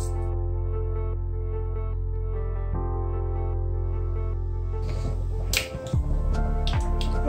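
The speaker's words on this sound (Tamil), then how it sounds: "இது எண்ணெய் காஞ்சதுக்கப்புறம் நம்ம கடுகு வெந்தயம் போட்டு தாளிச்சிடுவோம்." Mustard and fenugreek seeds hit hot oil. A steady tonal hum plays alone for the first few seconds, then bursts of crackling, popping spatter break out close by.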